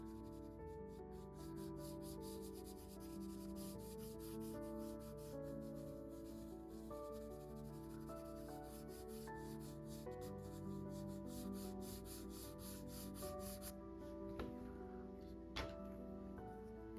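Dark green pastel being rubbed and blended on paper with soft, continuous scrubbing, very faint beneath a steady low background hum, with no voice.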